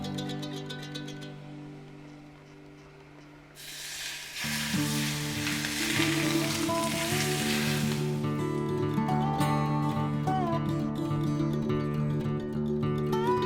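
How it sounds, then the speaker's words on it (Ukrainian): Three tablespoons of oil heat and hiss in a frying pan, a steady, broad crackling sizzle that rises partway through, with background music playing alongside. "Виливаю 3 столові ложки олії на сковорідку та розігріваю її."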